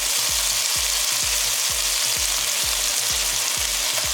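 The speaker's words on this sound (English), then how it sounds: "What you want to do to cook the chicken, every 10 seconds turn it, so then it allows it chance to cook" Chicken frying in a hot pan for chicken fried rice, a loud continuous sizzle with a regular thumping pulse of stirring and turning, alone without talk.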